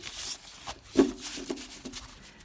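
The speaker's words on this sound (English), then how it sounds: "it shuffles, riffle shuffles okay" A tarot card deck being riffle shuffled close by, a quick burst of flicking card edges around the middle, followed by a few softer card riffles and taps, with no talking.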